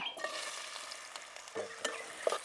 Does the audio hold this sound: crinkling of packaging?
no